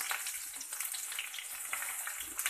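Cumin seeds and a pinch of fenugreek sizzle in hot oil for a masala akki rotti, a close, bright, crackling hiss that continues steadily without voices.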